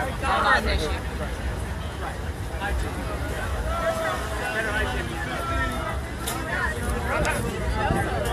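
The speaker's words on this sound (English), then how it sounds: "As you can see, in the middle of quite a crowd." Dense crowd murmur at a street protest in Houston, Texas during the 2017 Super Bowl, a steady wash of many overlapping voices at close range, with occasional wind buffeting the microphone.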